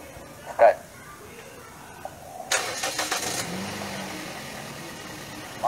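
A faint click, then a Toyota Vios engine cranks and catches with a few revs before settling into a low, steady idle nearby.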